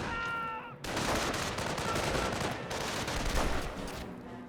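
Gunfire in the World War II strategy game Company of Heroes as pioneers come under rifle fire, dense and continuous crackling shots after a brief tonal opening, loud and sustained throughout.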